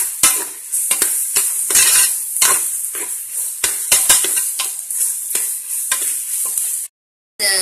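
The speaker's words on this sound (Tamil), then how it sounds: "இந்த இஞ்சி பூண்டு பேஸ்ட்டை விட பச்சை வாசனை போற வரைக்கும் நல்லா வதக்கிக்கோங்க" A spatula scrapes and stirs repeatedly in a pan of ginger garlic paste and onion over a constant bright sizzle, the strokes irregular and close, before a brief silence near the end.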